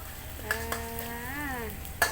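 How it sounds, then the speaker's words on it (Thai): Fresh chili being stir-fried in a pan, a low steady sizzle with a few scraping stirs, while a faint whistling tone rises and falls in the background. "พัดพริกให้หอมก่อนปฏิ"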